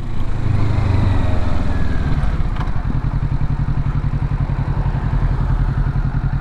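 A motorcycle rides a winding mountain road at Grizzly Peak, its engine droning steadily and loud with a rapid pulsing throb that settles into a chugging rhythm partway through, no talk over it.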